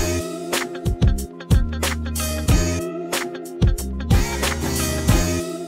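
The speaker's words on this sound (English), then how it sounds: "I've mixed down the drums and music separately, adding a copy of Bitcrusher to each." Drums and a music track each run through a Bitcrusher audio effect in Unity, playing together in a dense, gritty, lo-fi mix with steady beat hits, loud and continuous, no talk.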